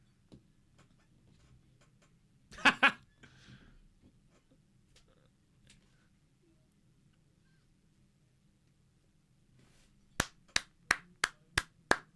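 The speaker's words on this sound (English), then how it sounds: "I don't know how well you could hear that clapping." Sparse hand claps at a live stream, a short double clap early on, then after a long quiet stretch a quick run of six sharp, evenly spaced claps, close and crisp.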